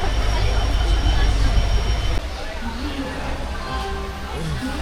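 Steady low rumble and rattle inside a moving train compartment on an overnight Kolkata to Dooars run, loud and continuous, dropping slightly in level partway through, with faint voices underneath.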